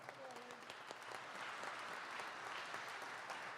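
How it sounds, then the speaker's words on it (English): Applause from an audience at a ribbon-cutting ceremony for a college automotive technology center, a steady wash of many hands clapping that swells slightly after the first second and holds, with some speech mixed faintly underneath. "Can you give him a round of applause?"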